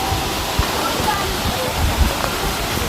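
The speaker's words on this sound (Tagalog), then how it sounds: "Yan po yung batis. Yan po yung falls." Tamaraw Falls in Puerto Galera pours with a steady broadband roar of falling water, close and continuous, while voices talk faintly underneath.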